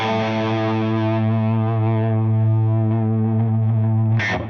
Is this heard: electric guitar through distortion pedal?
yes